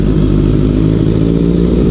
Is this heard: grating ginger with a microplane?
no